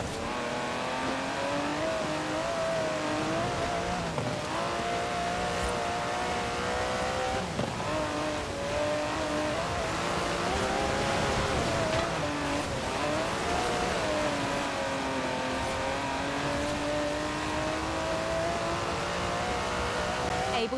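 Aston Martin DB11 with a 5.2-litre twin-turbo V12 in the racing game Forza Horizon 4, engine droning and rising and falling through gear changes with brief tire squeal, sustained and loud with no talk.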